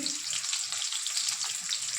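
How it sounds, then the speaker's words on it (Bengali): Boiled potatoes fry in hot oil for an egg kosha, giving a dense, even hiss and crackle that holds steady at moderate volume with no pauses. "এখন ওই তেলের মধ্যে সিদ্ধ করে আলু ছেড়ে দেবো, একটু ভাজবো"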